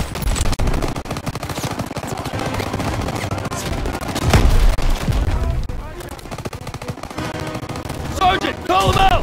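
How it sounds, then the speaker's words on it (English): Dense gunfire in the World War II shooter Call of Duty: WWII, with rapid rattling bursts and heavier booms that are loud and close, mixed with shouted voices and game sounds throughout. "Everyone open fire!"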